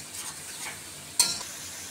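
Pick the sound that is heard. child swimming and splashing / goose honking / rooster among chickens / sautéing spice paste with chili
sautéing spice paste with chili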